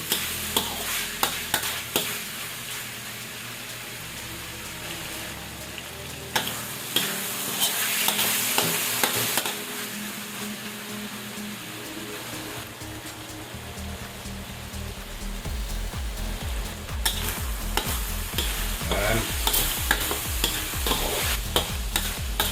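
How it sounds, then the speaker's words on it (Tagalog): Chicken fries in its own rendered oil for ginisang munggo sa pakbet, a steady close sizzle and crackle broken by repeated stirring and scraping in the pan. "Lulutuin lang po natin yung chicken sa kanyang oil."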